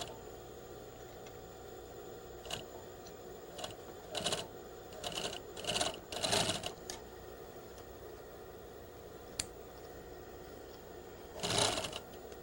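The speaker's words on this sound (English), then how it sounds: "We will stitch it down once more." A sewing machine stitches down a garment waistband, running in a few short, quiet bursts with pauses between them and no talking.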